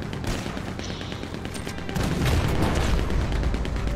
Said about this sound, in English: I'm shooting people with a cannon.